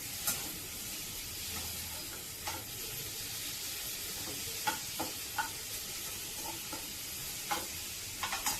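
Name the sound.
tomatoes added to frying gravy, sizzling and stirring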